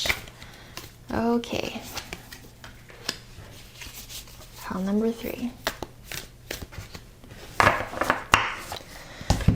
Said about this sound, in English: Spirit is making me shuffle this deck so much.